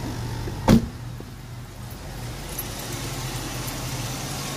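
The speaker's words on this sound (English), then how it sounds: "we're going to start the car up and let it idle" A car engine idles at close range with a low, steady hum and rumble, broken early by a single brief knock or thump, otherwise even and unhurried with no voices.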